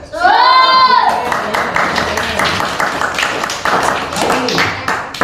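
Classroom clapping as students applaud a classmate during a lesson, a short burst of quick, overlapping hand claps following a brief spoken voice.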